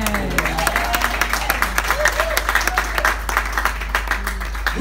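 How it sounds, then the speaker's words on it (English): Wedding guests clapping and applauding at a church ceremony, rhythmic claps repeating steadily through the moment amid crowd murmur, with a low steady hum underneath. "Which people are clapping for, the women or the men?"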